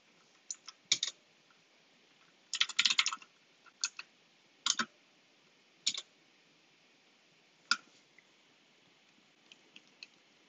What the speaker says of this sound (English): none of my typing's doing anything